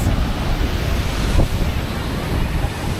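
A waterfall at Havasupai pouring into a blue pool, a broad, continuous roar of rushing water, close and loud, with some wind buffeting the microphone.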